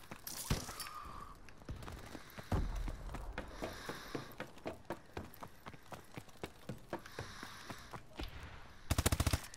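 Rapid gunfire in Call of Duty: Advanced Warfare, multiplayer match against bots: repeated sharp shots and short automatic bursts spread across the stretch, ending in a loud fast burst, with no talk over it.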